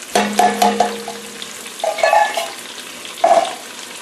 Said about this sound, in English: I have 1 can of mushrooms, and it is a 8-ounce can of mushrooms. Let's add that in.